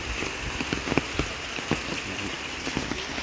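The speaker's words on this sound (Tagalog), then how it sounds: "Ulan dito." Steady rain patters on a roof, a dense continuous hiss with scattered louder drips and knocks, no voices.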